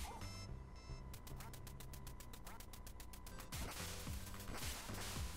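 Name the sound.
duck quacking in the video game Duck Hunt (NES)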